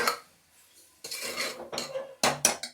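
A spoon scrapes and clinks against a pot while salt is stirred into radish saaru, a few short metallic knocks and scrapes in bursts, close and fairly quiet, with no talking.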